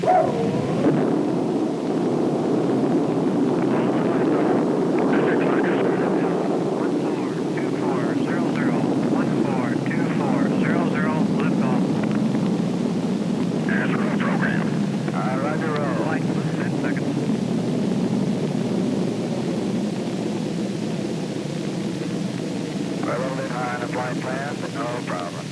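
The 1965 launch of the Gemini Molly Brown spacecraft at Cape Kennedy: a deep, steady rocket roar rumbles continuously for the whole stretch, with brief faint voices now and then on top.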